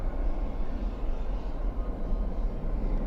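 A jet airliner rolls out after a night landing at Dallas/Fort Worth International, thrust reversers deployed, giving a steady broad engine roar heard from a distance, with no voices.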